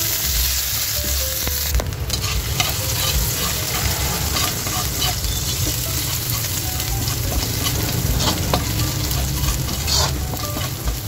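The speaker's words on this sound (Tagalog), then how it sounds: "Mainit na yung ating mantika kaya ilalagay na natin yung ating bawang." Garlic dropped into hot cooking oil in a frying pan sizzles loudly and steadily, a dense crackling hiss with scattered pops and stirring scrapes, heard alone without voices while pork giniling is being prepared.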